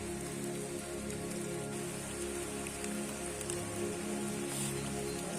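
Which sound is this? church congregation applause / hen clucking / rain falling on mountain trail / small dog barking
rain falling on mountain trail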